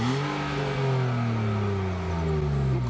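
A 2005 BMW Z4 Roadster's engine revs steadily up close, its strong harmonic drone holding and slowly sinking in pitch with no talk over it.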